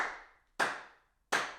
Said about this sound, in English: So if you clap your hands,